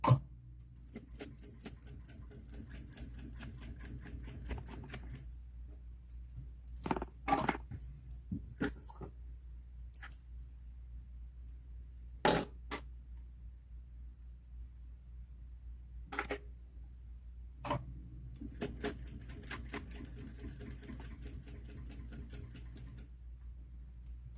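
Sewing machine top stitching a crossbody bag at an eighth of an inch, with quiet bursts of fast, even mechanical ticking separated by pauses and scattered soft clicks and knocks.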